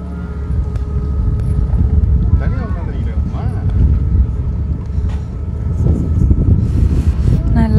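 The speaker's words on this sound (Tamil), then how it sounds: "போட்டுக்கு வந்தாச்சு, ஸ்டார்ட் ஆகுது." A motorboat's engine at the Muttukadu boathouse near Chennai chugs and rumbles steadily and loudly at close range, with people talking over the running motor throughout.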